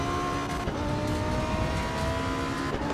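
A racing car engine in a sim racing video game drones steadily for the whole stretch, a continuous tonal whine over a rough, buzzy roar with no pauses and no voices.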